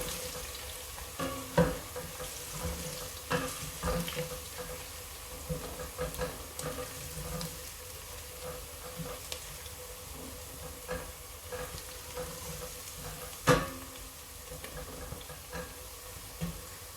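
Garlic and ginger frying in a pan over medium-low heat for spinach potato curry, a steady soft sizzle with occasional stirring clinks and scrapes, close and without talk.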